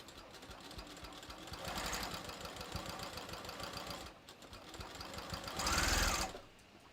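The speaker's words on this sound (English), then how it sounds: "lift the presser foot, let it relax, take a couple more stitches" A sewing machine stitches a hem on knit fabric for a bathrobe, running in a steady close mechanical whir with rapid needle clatter, briefly pausing then restarting in short bursts.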